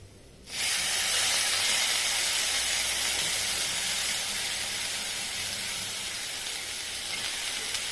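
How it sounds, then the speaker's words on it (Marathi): Ground spice paste hits a hot pan with greens and bursts into a loud, steady sizzling hiss that starts abruptly and keeps going, with no voices. "हे वाटण ह्याच्यामध्ये घालून घ्यायचं थोडंसं मिक्स करूया म्हणजे परतून घेऊया"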